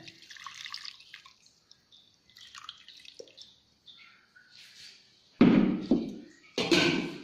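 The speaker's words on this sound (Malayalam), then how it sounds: "ഇത് പാത്രത്തിലേക്ക് ഒഴിക്കുക." Liquid for rose lime juice splashes into a vessel in two short, loud pouring bursts near the end, after a stretch of quiet light clinks and kitchen sounds.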